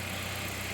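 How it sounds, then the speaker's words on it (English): A Saab 9-5 2-liter stage 3 engine with a TD04 turbo runs at a steady idle, a continuous low hum with even pulsing, close and alone without voices. "this is such a nice running engine"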